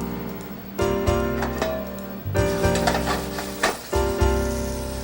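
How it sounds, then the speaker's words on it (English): Pork tenderloin sears in olive oil in a hot pan, giving a steady, close sizzle broken by a few sharp clatters and bursts as the meat is placed and moved. "Some olive oil into a hot pan. And we're going to sear that off."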